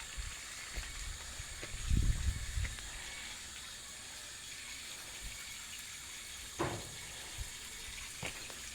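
Water flowing from a hose while watering garden plants, a soft steady hiss with a brief louder splashing burst early on and a few faint knocks, fairly distant and quiet.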